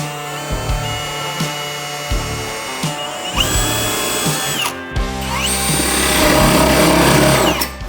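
A power drill with a spade bit bores a hole through cabinet wood, a few short motor taps, then two sustained, loud whirring runs with bit chatter, separated by a brief pause.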